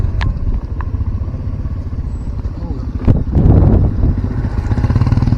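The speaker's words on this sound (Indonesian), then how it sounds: "Jadi alhamdulillah motor bisa masuk di sini" Motorcycle riding past a landslide point on a mountain road, a close, steady engine chug with rattling and crackle that swells in a rougher burst partway through, with voices talking over it.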